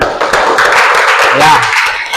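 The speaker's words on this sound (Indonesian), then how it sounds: "Oke, baik, tepuk tangan." A class of pupils clapping hands together in a classroom, a busy burst of close, overlapping claps with faint voices mixed in.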